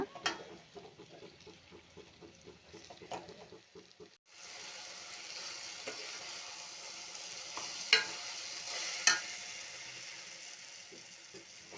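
Chopped tomatoes with potato frying in a pan over a medium flame, soft stirring at first, then a steady sizzle rising as they hit the oil, with a couple of sharp utensil scrapes and clinks.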